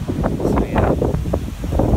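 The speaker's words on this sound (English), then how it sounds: "See, you can hear this wind right now." Wind buffets the microphone outdoors near grass and trees, a steady loud low rumble with gusty swells throughout and no speech.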